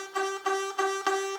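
Acoustic guitar strummed four times in steady rhythm, each chord ringing with a slight buzz from strings not pressed down firmly enough, close and clear with no talking.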